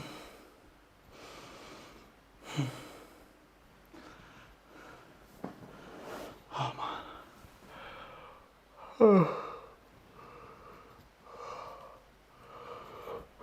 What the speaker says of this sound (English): Sorry, I'm yawning, sorry.